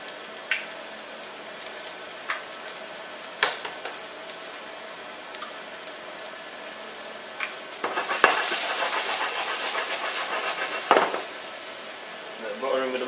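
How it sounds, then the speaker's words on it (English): Shiitake mushrooms frying in a pan, a soft hissing sizzle that swells louder in the second half, broken by occasional scraping and tapping of a utensil, with a voice talking at times. "Just going to fry them with a bit of red tea on."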